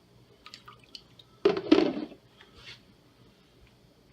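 Apple cider sloshing inside a homebrew fermenter as it is shaken by hand, a short wet burst of liquid rolling and splashing in the middle, with faint drips and handling noises before and after.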